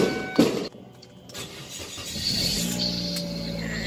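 A Ford Focus engine cranks and catches, settling into a steady idle hum close by after a brief starter whir and a few bumps.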